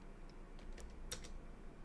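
Several quick, soft keystrokes click on a computer keyboard number pad, faint and sparse against a quiet room hum, with one sharper tap standing out.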